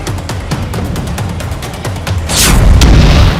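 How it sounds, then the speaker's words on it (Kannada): Bomb blasts from an Iranian attack on airports: a string of sharp, fairly close bangs in quick irregular succession, then a louder, longer rumbling roar that swells and holds near the end. No voices. "ಏರ್ಪೋರ್ಟ್ಗಳ ಮೇಲೆ ಇರಾನ್ ಬಾಂಬ್ ದಾಳಿ"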